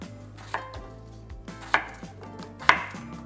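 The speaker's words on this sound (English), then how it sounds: "and we'll then cut into cubes" A kitchen knife chops peeled potatoes into bite-sized cubes, with three crisp, separate chops at spaced intervals over a soft background of music.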